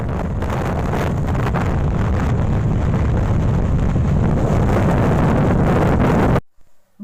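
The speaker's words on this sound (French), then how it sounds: "il y a quand même le vent qui souffle" Heavy wind buffets a GoPro camera microphone outdoors, a loud continuous rumbling roar for about six seconds that cuts off abruptly near the end.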